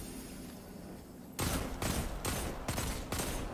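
Video game gunfire in a shooter: after a quiet moment, a burst of loud, rapid repeated shots starts abruptly and continues in short volleys to the end.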